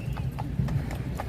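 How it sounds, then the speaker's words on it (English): Carriage horses in Central Park, New York City, clip-clop on pavement with steady, evenly spaced hoof strikes close by, under a low hum of outdoor background noise. "We still have horses here"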